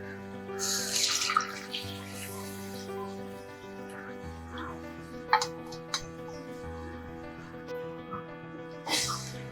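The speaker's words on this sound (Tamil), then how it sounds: "இப்போ இது கூட நம்ம புளி ஆட் பண்ணிக்கலாம்" Tamarind water poured into a simmering peanut curry, with bursts of splashing pouring at the start and end and soft clinks in between, close and quiet over a steady background hum.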